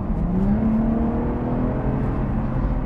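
A Lotus Evora IPS automatic accelerates hard under full throttle, its engine note rising and holding close and loud inside the car, with no talking.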